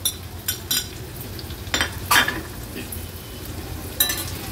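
Onion and ginger-garlic paste sautéing in oil, heard as a low, even sizzle broken by scattered clinks and scrapes of a spoon stirring in the pan, close and without speech.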